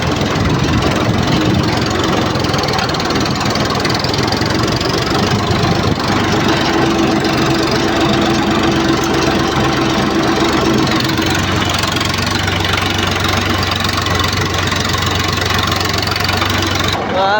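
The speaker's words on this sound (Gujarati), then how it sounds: "ટ્રેક્ટરનો અવાજ વધુ આવતો હોય છે આપણા કરતાં" A farm tractor runs in a nearby field, its engine a loud, steady low drone with a knocking chug that holds throughout.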